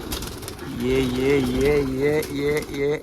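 Pigeons coo in repeated rising-and-falling warbles, close by, over a faint background of shuffling noise.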